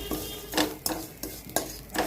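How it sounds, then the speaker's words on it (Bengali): Roasted vermicelli being lightly fried in ghee in a pan, with a soft background sizzle broken by several sharp scraping and stirring strokes of a utensil against the pan at irregular intervals. "এটা রোস্টেড, তাও একটু ঘি দিয়ে একটু হালকা করে ভেজে নিচ্ছি সিমুইটা 1 মিনিটের মতো"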